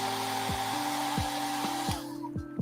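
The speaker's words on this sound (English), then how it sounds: "Just kick it with the hairdryer." A steady, loud blowing hiss of a hair dryer runs almost the whole time, with faint rhythmic ticks beneath, then it cuts out near the end.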